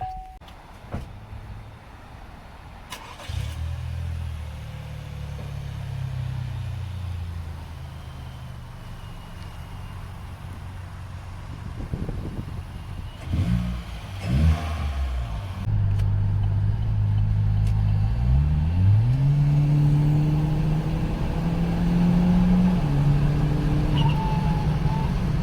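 A 2016/2017 Chevy Cruze with a big turbo, new tune and an underboost fault pulls on the highway. Its engine note rumbles under road and wind noise, then rises steadily in pitch as it accelerates hard.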